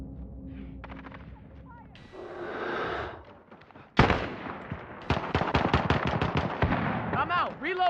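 Gunfire in a shooter video game, bursts of rapid sharp shots in quick succession, loud and close, with a lull between volleys and a voice heard briefly under the action.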